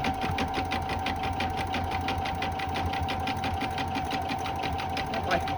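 An embroidery machine stitches a design with a fast, steady mechanical chatter, its needle strokes repeating evenly and close, with a faint voice speaking over it at times.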